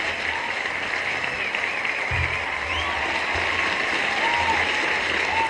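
A crowd applauds the youth at a public event, with dense, sustained clapping and a faint murmur of voices, loud and steady throughout.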